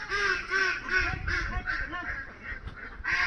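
A flock of farm ducks, around 200 to 250 birds, quacks in a repeated rhythmic chorus close by, loud and steady through the whole moment, with low rustling and faint background noise underneath.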